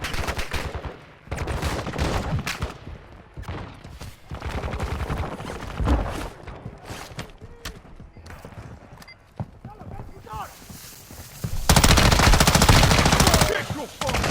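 Gunfire in a Call of Duty video game during a hostage rescue, with bursts of automatic fire mixed with shouted voices and a dense, loud stretch of shooting near the end.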